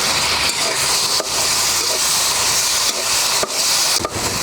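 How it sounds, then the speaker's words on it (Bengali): Shol fish frying in spice paste with turmeric for kalia, a steady loud hiss and sizzle running throughout with a few brief dips. "এবার এর মধ্যে মাছগুলো দিয়ে মাছটাকে কিছু সময়ের জন্য কষিয়ে নেব।"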